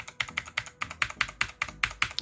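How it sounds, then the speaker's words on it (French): Someone types on a SteelSeries Apex 5 mechanical keyboard with a quick, even run of close, crisp key clacks, roughly ten strokes, and no one speaks. "Donc c'est un clavier mécanique"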